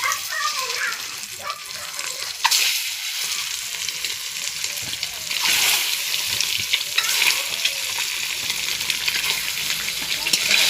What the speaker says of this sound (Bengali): সিদ্ধ করা ডিমগুলোও ভেজে নেব।